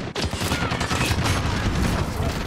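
Dense, loud bursts of automatic gunfire in the Call of Duty Modern Warfare multiplayer video game, rapid overlapping shots filling the whole stretch without pause.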